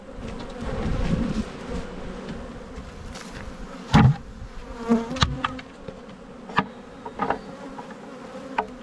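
Honeybees drone at an open hive during a spring inspection, a steady close hum with occasional louder passes near the microphone and faint knocks of frames and equipment.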